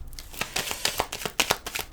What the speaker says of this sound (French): Donc comme il est difficile à mélanger